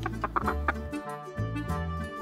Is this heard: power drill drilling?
no